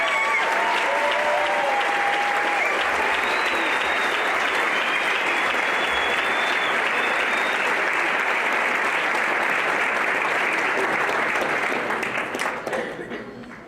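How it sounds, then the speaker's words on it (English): A crowd applauds the juniors at a university ring ceremony in Texas, broad sustained clapping that holds steady and loud for most of its length before tapering off at the end, with faint voices and whistles mixed in. "how about a nice round of applause for the juniors?"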